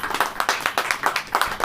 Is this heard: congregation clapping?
yes